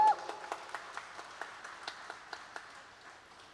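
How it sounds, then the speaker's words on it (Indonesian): Clapping at a motorcycle club branch meeting in Bogor, a thin scattering of hands with distinct individual claps in a loose rhythm, fairly faint and fading out toward the end. "Tepuk tangan dulu untuk Bogor."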